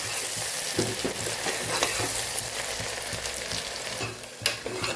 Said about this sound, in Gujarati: ડુંગળીને આપણે સરસ સાતડી લેવાની છે।